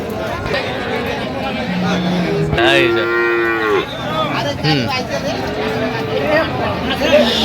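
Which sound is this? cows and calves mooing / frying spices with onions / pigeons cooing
cows and calves mooing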